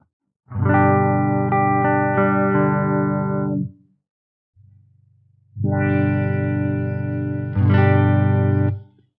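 Electric guitar through a Meris LVX delay set to a ladder filter on the dry signal, two loud sustained filtered chords separated by a quiet low hum, the tone swelling near the end.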